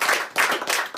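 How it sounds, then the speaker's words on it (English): Audience clapping at a live show, a brief burst of steady, dense applause from a crowd, fairly close and without voices. "Daniel Bell, give him a round of applause"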